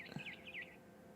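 A barn swallow chirps outside a window, a few quick high twittering calls in a short burst, faint and somewhat distant over a steady low background hiss.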